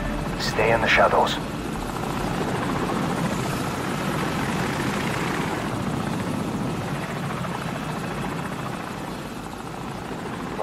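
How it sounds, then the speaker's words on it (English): Enemy helicopter in the Call of Duty 4: Modern Warfare video game, a steady loud rotor drone that stays constant throughout, with a brief burst of voices near the start. "Enemy helicopter! Get down! Stay in the shadows."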